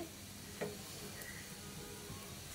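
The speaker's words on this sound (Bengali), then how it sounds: "আমার গল্প করতে করতে বড়াগুলো কিন্তু সুন্দর করে ভাজা ভাজা হয়ে গেছে।" Cauliflower fritters fry in hot oil, giving a steady, soft sizzle that runs throughout with one brief crackle near the start, no voices heard.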